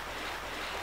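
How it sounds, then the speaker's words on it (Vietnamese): A small stream cutting across a rural garden in E Nhôn commune, heard as a steady, even rush of flowing water that fills the short moment without breaks. "Thì dòng suối này nó cắt ngang qua cái vườn của mình."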